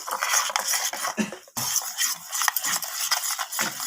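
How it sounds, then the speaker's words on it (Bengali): A spoon stirs a spice mix with mustard oil for steamed cauliflower, scraping and clinking against the bowl in quick, close strokes, with a brief pause midway before the stirring resumes. "তো সর্ষের তেলটা দেওয়ার পর আমি মশলাটাকে ভালোভাবে চামচের সাহায্যে নেড়ে নিচ্ছি এইভাবে"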